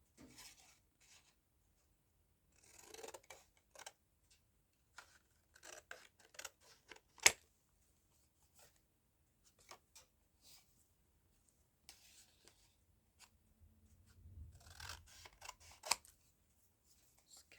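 Scissors snipping through paper, cutting down children's book images for journal cards, in short irregular bursts of close, quiet crisp snips and rustles separated by pauses.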